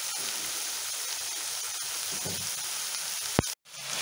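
Chutney ingredients with turmeric and salt sautéing in a pan, giving a steady, even sizzle with a few faint stirring touches and a sharp click near the end.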